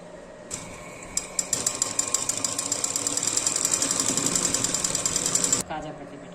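A sewing machine runs steadily for about five seconds while stitching a designer blouse, a loud, close, rapid mechanical whir that starts and stops abruptly.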